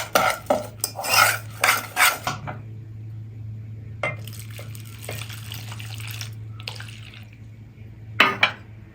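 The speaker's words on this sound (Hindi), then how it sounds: "अब इसको अच्छी तरह इसके अंदर मिक्स कर लेंगे।" A spoon clinks and scrapes against a bowl while stirring a wet henna hair dye mixture, with several quick metallic taps early on, then quieter swirling and a final pair of clinks.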